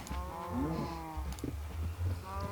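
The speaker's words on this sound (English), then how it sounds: "There's a lot of cows." Several Minecraft cows moo in a crowded pen, their low, drawn-out calls overlapping and repeating at close range with no speech.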